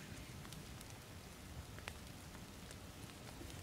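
Steady rain in the survival game The Forest, a soft even patter of drops with a few brighter splashes, quiet and continuous with no talk.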